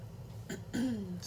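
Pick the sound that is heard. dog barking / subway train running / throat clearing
throat clearing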